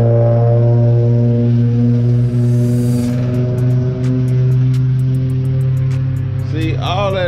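A loud, deep, rumbling engine drone from a Camaro with an unrepaired muffler holds steady throughout, with a rough low growl and a brief higher whine near the end.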